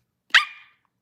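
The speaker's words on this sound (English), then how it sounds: "The barking, it sounds like a squeal." A person with Tourette's lets out a single barking vocal tic, a sharp, squeal-like yelp that sounds close and loud, then fades quickly into silence.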